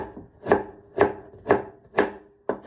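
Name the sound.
knife chopping vegetables into small pieces for yakisoba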